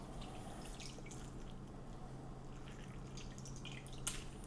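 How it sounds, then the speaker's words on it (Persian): Juice squeezed from grated onion for kebab drips quietly, a few faint, scattered drips and trickles against a low, steady background hum. "آب کل پیاز رو ازش میگیریم"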